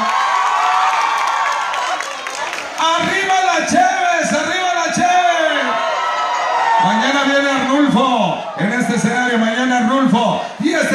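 Fairground crowd at ExpoFeria García cheering, whooping and applauding performers, loud and lively with shouting voices and laughter woven through the clapping.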